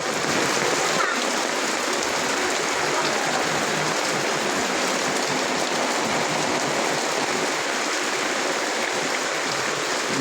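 Heavy monsoon rain pours down steadily around floodwater, a dense, even hiss of drops on water and surfaces that holds unbroken and close for the whole stretch.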